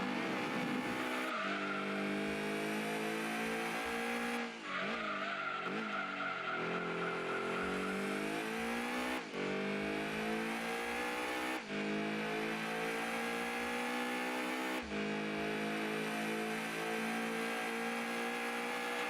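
Lancia Stratos race car in Gran Turismo 2, its engine revving loudly and continuously through gear changes, with tire squeal and skidding as it loses control.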